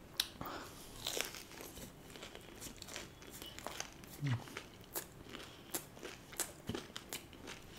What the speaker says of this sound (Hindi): सो गाइज ये है कुरकुरे स्प्रिंग रोल।